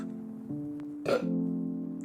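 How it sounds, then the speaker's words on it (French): A short guttural burp from a person mid-meal at a burger and onion-ring order, a brief low throaty burst rising out of a faint, steady background hum. "Oula, excuse-moi, j'ai roté."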